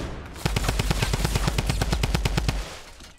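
Automatic weapon fire in Fortnite, a loud close burst of about twenty evenly spaced rapid shots lasting around two seconds before trailing off.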